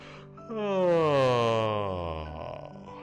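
A single long, drawn-out yawn with a rising then slowly falling voiced tone, close and clear.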